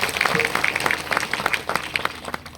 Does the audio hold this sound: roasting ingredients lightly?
no